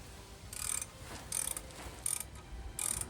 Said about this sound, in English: Let's get the calipers off. That's a M16 spline bit, goes in the bolts in the back there.